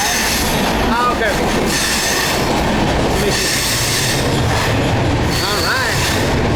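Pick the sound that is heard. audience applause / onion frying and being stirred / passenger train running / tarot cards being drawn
passenger train running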